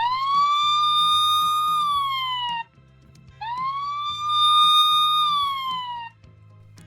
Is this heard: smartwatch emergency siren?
yes